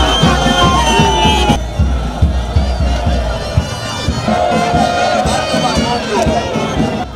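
A street crowd of political supporters in Kolwezi cheers and shouts close by, with voices, whoops and rhythmic chanting or drumming pulses continuing throughout, loud and lively.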